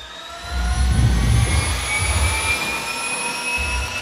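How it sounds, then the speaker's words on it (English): Loud, high-pitched turbine whine with a deep rumbling roar beneath, steady and powerful, as a helicopter engine drives a rocket turbo pump on a test stand at close range. "For this test, the turbo pump is driven by a helicopter engine."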